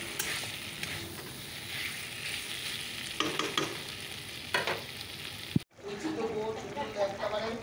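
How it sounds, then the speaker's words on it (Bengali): Vegetables frying with spices in a pan, giving a steady sizzle with intermittent stirring and scraping, broken by a brief sharp clack and pause before the frying resumes. "চলো সবজিটাকে একটু ভাজা ভাজা করে নেবো এখন"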